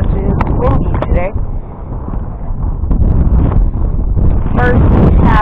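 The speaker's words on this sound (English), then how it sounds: "you might hear some wind because it is windy today" Gusty wind buffets the microphone with a low, continuous roar that rises and falls while fishing, a person talking over it.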